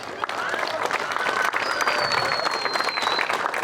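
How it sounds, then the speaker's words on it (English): An audience applauds the finalists at a pickleball Hall of Fame ceremony, giving sustained clapping from a crowd while a voice briefly carries over it. "One more round of applause for all of this year's finalists."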